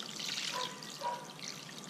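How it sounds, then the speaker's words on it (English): Water pours into a pot holding an octopus, a light trickling splash rising and falling in two soft bursts, quiet and close, with no talking. "What we're going to do is just add some water"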